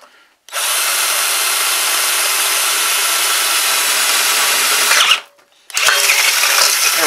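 A power saw cuts through soft metal while building a hold-down rack for planes: a loud, close, harsh rasping whine runs steadily for nearly five seconds, cuts off briefly, then resumes, with no talking.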